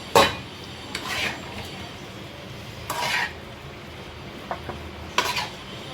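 Cauliflower sabzi scraped and served from a pan onto a plate: several distinct metal spoon scrapes and clinks against cookware, spaced apart over a quiet kitchen background with no talking.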